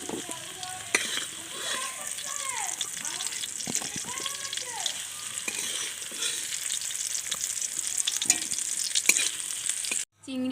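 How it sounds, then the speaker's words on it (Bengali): Shrimp and malabar spinach stalks frying in a wok in a village kitchen, a steady loud sizzle with stirring scrapes throughout, then a brief cut near the end. "চিংড়ি আর পুঁইশাক ডাঁটাটা আমি ভালো করে ভেজে নিয়েছি"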